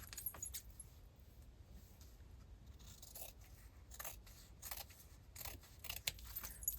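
Scissors snip through paper and thin cardboard for a handmade junk journal, a run of short crisp cuts close by with small scraping and rustling handling sounds between them.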